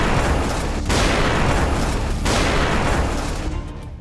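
Rockets fired in an attack on a naval airbase in Crimea, heard as a loud, dense, continuous roaring blast that holds steady for several seconds before easing slightly at the end.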